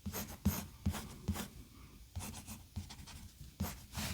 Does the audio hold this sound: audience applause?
no